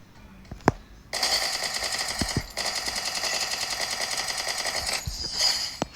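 Gunfire in a mobile shooting game, a sustained rapid automatic burst lasting several seconds with a brief break, plus a few isolated sharp single shots before and after, moderately loud with no talk.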